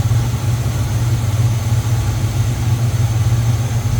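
A numbers-matching 1968 Chevrolet Camaro RS V8 with a 4-barrel carburetor idles smoothly and steadily, a close, even low rumble with no talking over it.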